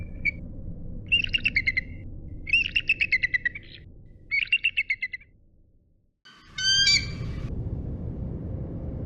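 Eagle calls from a Kazakh hunting eagle: four or five bursts of rapid, repeated high chirping notes, the last one harsher and louder, over a steady low wind-like rumble with no speech.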